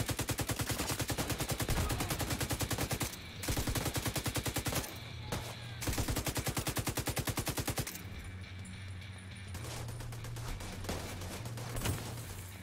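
Automatic gunfire in The Division 2 arrives as long, rapid, evenly spaced bursts, loud and close, then drops to quieter scattered shots over a low background hum.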